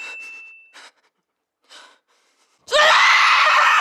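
Scenes from the Andor TV series: a few breathy gasps and short vocal bursts separated by silence, then a sudden loud, sustained scream that fills the final second.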